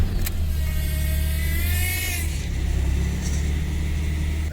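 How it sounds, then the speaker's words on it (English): A running car with a slipping transmission and burned fluid, giving a steady engine drone with a faint high whine rising and then fading over it, no talk. "That sounds like a pump whine."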